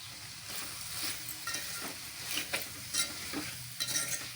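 Food sizzles steadily in a pan as a spoon stirs and scrapes through it, with small clicks of metal against the pan and no voices.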